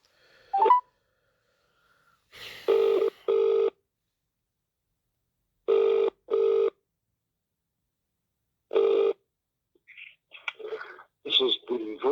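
A telephone call to a council legal department: quick dialing tones, then a ringback tone in paired bursts repeating at regular intervals, with brief speech-like sounds at the start and a voice answering at the end.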